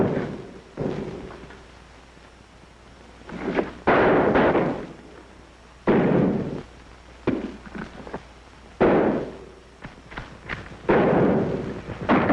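Gunfire and heavy blasts in a 1942 war film, a handful of loud, booming reports at irregular intervals with quieter rumbling between them.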